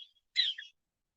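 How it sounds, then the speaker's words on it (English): Short high bird calls from parrots, a faint chirp followed by a louder harsh squawk, then silence. "the parrot was just shouting"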